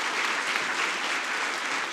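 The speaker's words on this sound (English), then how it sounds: "Hey, give them a round of applause." An audience at a vacation Bible school event claps steadily for volunteers, a dense, even wash of applause throughout.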